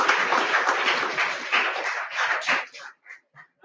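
Applause from an audience at an international English conference at a college, dense continuous clapping that thins into scattered final claps.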